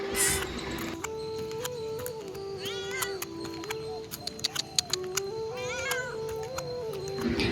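A cat lets out two drawn-out, wavering meows a few seconds apart, close by, over a steady background hum with scattered faint clicks.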